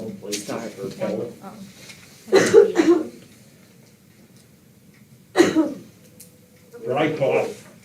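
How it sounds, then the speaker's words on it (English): A dry cough repeated several times during a county commissioners' meeting, short harsh bursts separated by pauses and fairly close to the microphone. "Dry cough."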